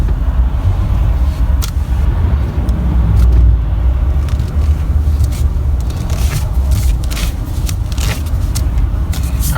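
A 2019 RAM 2500 Heavy Duty Tradesman pickup with an 8-speed transmission driving in tow/haul mode, its steady loud engine and road rumble filling the cabin with scattered scrapes and rattles throughout, no talking.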